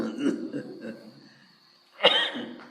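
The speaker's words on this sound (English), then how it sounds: "But you're coughing away" A person coughs at close range during a spiritual discourse, one soft cough at the start and then a louder, harsher burst about two seconds later, with quiet pauses between them.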